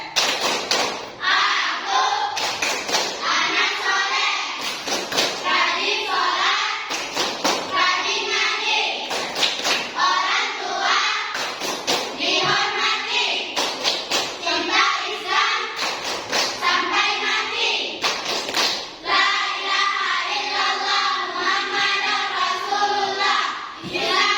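Children in an Indonesian classroom perform the rhythmic "tepuk anak soleh" clapping chant led by a teacher, loud patterned bursts of hand claps and thumps alternating with chanted voices, repeating in short cycles throughout.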